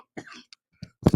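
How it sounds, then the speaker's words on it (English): A few short coughs with pauses between them, building to a louder, harsher burst at the end, close to the listener. "need to cough for a second"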